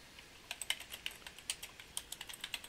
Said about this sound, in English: I'm going to type in link to